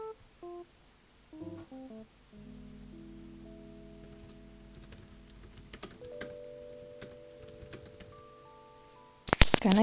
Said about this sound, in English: I'm just gonna start typing, I guess.